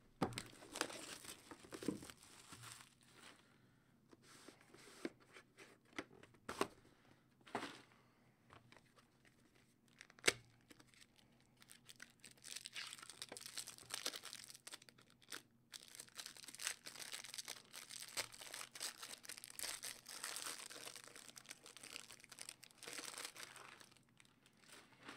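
A 2014 Panini Absolute football card pack torn open by hand, with intermittent crinkling foil and paper rustles, sharp tearing bursts and quieter pauses, heard close with no talking.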